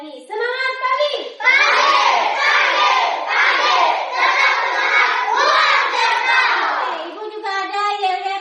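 A class of schoolchildren bursts into a loud morning spirit chant, many young voices shouting together in rhythmic bursts for several seconds, framed by a teacher's voice before and after.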